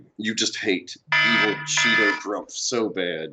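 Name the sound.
alarm going off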